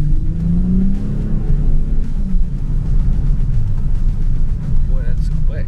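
A car idles and then drives off, its engine rumbling and revving steadily and close, with a voice speaking over the motor.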